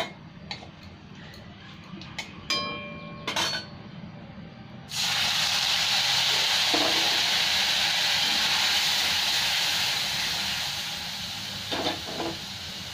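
Grated tomato dropped into hot fried spices in a pan, bursting into a sudden loud hiss after a few quiet clicks, then sizzling steadily and easing slightly toward the end.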